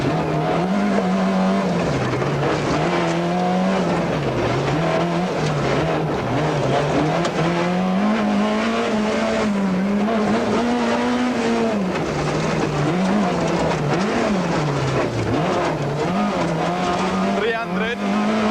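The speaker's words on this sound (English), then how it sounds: "In car with Hannes and Pierre, one can see just how tight the stage actually is." A rally car from the 1995 Autumn Trail is driven hard through a tight forest stage, heard from inside. The engine revs rise and fall continuously with quick gear changes, loud and close for the whole stretch.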